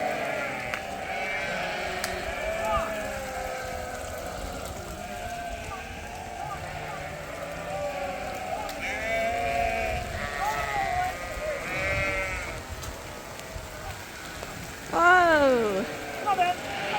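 Sheep bleating on a wet farm in steady rain, several calls scattered through the clip and one louder, closer bleat near the end, with rain hiss underneath throughout.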